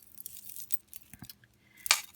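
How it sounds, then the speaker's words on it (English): Glass beads for chunky charm jewelry being handled, giving light clicking and clinking taps scattered through the moment, ending in a brighter, sharper clink. "Here's some of the glass beads right there."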